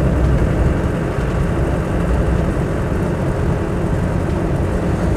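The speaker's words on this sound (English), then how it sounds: "Heater blower motor works." The heater blower motor of a Land Rover 90 County Station Wagon with a 200Tdi engine runs as a loud, steady whooshing drone that holds even throughout, with no talk.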